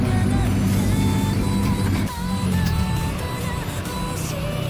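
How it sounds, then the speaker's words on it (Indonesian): Trucks queue to enter Teluk Lamong port in Surabaya, a loud continuous engine rumble with idling drone, a brief drop midway, and faint whines and tones layered over the steady traffic. "Ini terlihat truk-truk yang mau masuk pelabuhan Teluk Lamong lagi antri"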